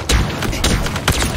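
Pistol fire in the shooter game Halo Infinite, three sharp, loud shots spaced about half a second apart, each with a short punchy boom and quick decay.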